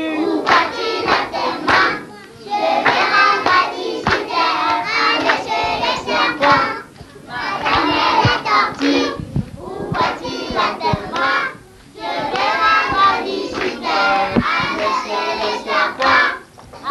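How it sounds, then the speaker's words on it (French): Schoolchildren clapping during a visit to a TV station, bursts of quick rhythmic clapping broken by short pauses, close and loud, with young voices mixed in. "on applaudit"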